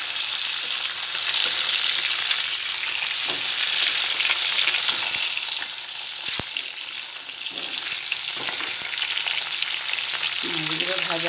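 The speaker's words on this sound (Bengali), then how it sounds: "মাছ ভাজা বসিয়ে দিয়েছি, আর এই যে কটা ভাজা হয়ে গেছে।" Fish sizzles steadily as it fries in a pan, with a continuous loud crackle and occasional stirring clinks over the whole stretch, and no voices.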